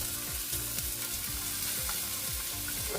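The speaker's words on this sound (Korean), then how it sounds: "예열된 팬에 식용유 1큰술을 두르고 당근을 넣고 중불에서 볶아줍니다." Chopped carrots stir-fry in a tablespoon of oil in a preheated pan over medium heat: constant close sizzling hiss with rhythmic scrape-and-toss strokes about every half second, no voices.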